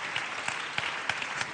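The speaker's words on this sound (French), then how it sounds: "bravo à vous, on peut vous applaudir" Audience applause at a national awards ceremony as a trophy is presented, a continuous patter of many hands with a few sharper individual claps standing out, moderately loud with no talk.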